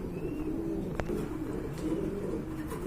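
Fantail pigeons coo in a low, continuous murmur, fairly close and steady, with one brief sharp click partway through and no speech.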